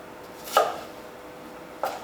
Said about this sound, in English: We're just going to slice all the way through this time